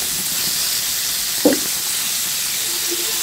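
Fish frying in hot oil in a pan gives a steady, even sizzle throughout, with one brief louder clack partway through and no talking.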